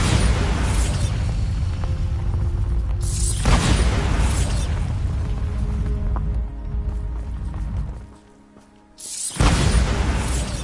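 Bombarda explosion spells cast in Hogwarts Legacy, heavy booming blasts recurring amid constant rumbling game noise, with a brief dip to near quiet before another burst.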